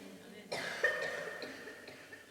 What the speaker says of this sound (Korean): 강한 긍정의 기침인 것 같습니다.